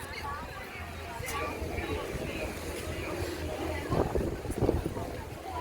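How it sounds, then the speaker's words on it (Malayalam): Steady, heavy wind roar at Kanyakumari buffeting the microphone, with voices and crowd noise underneath and a couple of louder gusts near the end. "കാറ്റ്, ഭയങ്കര കാറ്റ്."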